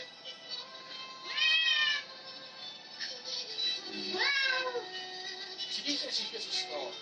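Cartoon cat meows from the Techno Kitten Adventure video game, two clear rising-falling calls near 1.5 and 4.3 seconds over a constant electronic music bed, with softer chirps later and some talk mixed in.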